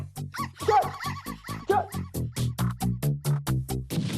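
A dog yips and whimpers in a rapid rhythmic series of short high cries, close and loud, while tugging at a sock.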